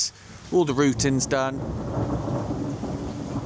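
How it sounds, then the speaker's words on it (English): Thunder rumbles through a relentless rainstorm while someone speaks briefly over it, with steady rain noise continuing after he stops. "That's the thunder and lightning."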